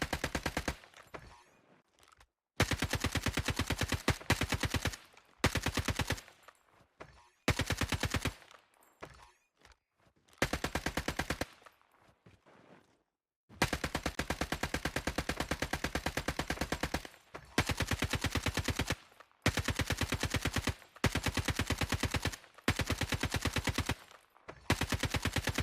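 Rapid automatic gunfire in bursts during a gunfight in Call of Duty Mobile DMZ, loud sustained volleys separated by short silent pauses.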